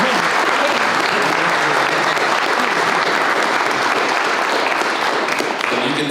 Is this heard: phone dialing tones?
no